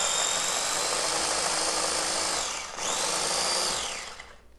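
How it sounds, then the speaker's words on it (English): A food processor whirs steadily while blending ingredients with extra virgin olive oil, a loud, even motor drone that dips briefly midway and then winds down at the end, no voices. "You're just going to process this up until it's nice and fine."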